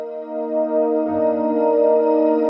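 A sustained synthesizer pad chord layered with strings plays on a Yamaha MODX M, swelling slightly as a low register enters partway through, clear and alone.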